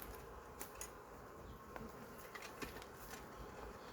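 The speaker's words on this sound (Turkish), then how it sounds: "her tarafında arı var" Honey bees buzzing around a three-compartment wooden hive, a faint continuous hum of many insects with individual bees passing close now and then.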